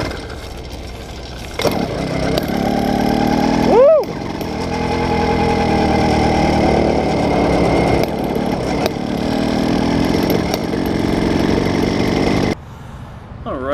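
An 80cc motorized bicycle engine runs steadily and loudly up close, a continuous buzzing drone with a brief rising whine partway through, then cuts out near the end.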